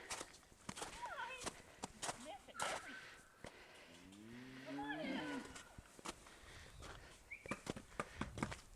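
Cattle in a small cattle drive low and moo amid footsteps and rustling, with a clear drawn-out moo near the middle; people call and talk over the herd throughout.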